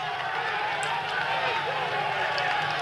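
A steady roar of a large crowd cheering in a cycling video game race, continuous and loud throughout, with a commentator's voice speaking over it.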